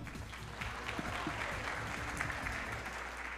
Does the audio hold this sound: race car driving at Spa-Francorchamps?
no